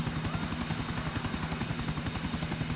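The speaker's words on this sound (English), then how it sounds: "I'm stealing your fancy helicopter." Helicopter flying in the video game GTA IV, a loud continuous rotor chop with fast steady pulsing and a high turbine whine, close and alone.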